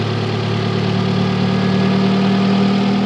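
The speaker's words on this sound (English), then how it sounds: "That thing idle smooth for something that ain't been started in a while." Honda Civic with a swapped H22 engine idling smoothly, a close, even mechanical hum with a steady low tone held throughout and no voices.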